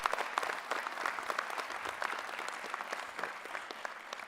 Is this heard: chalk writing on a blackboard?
no